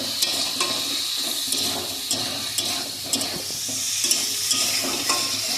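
Potato pieces stirred and fried in oil in a pan for a Bengali-style dhokla curry, a close steady sizzle punctuated by regular scraping and clinking strokes of a spoon, with no speech.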